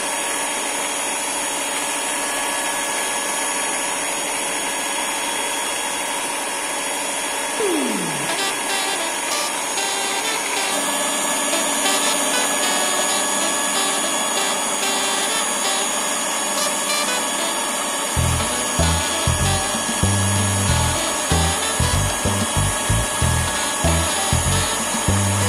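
An electric hand mixer whips steamed tiramisu cake batter with a constant high whirring drone for the whole stretch, loud and close, joined near the end by rapid rhythmic knocking as the beaters strike the bowl.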